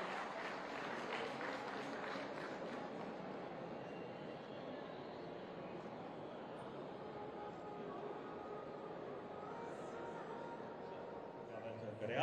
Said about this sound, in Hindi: आप सब एक बार जोरदार तालियां हो जाएं।